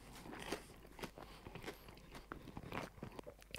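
Someone bites into a crispy crepe with quince jam, giving faint, close crunches and chewing in soft irregular bursts.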